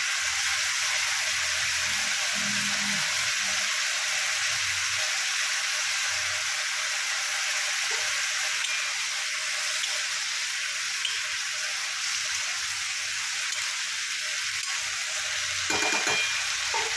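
Potatoes frying in oil for a chingri maach torkari, a steady close hiss and crackle of sizzling that runs unbroken throughout with only faint scattered clicks.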